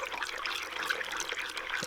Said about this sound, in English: when you stir it around a bit, I like to see the grain get suspended in the water